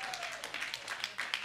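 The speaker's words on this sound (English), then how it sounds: "Hey, clap it up for this show" A comedy show audience claps together in a quick, dense patter of many hands, fairly faint and steady, with a voice speaking briefly over it at the start.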